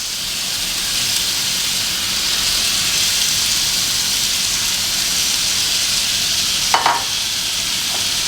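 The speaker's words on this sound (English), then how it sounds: "you want to let it kind of sear 2 to 3 minutes, medium heat" Fish pieces sear in a hot pan over medium heat while fish tacos are made, giving a steady, close, even sizzle throughout with a brief clink of a utensil near the end.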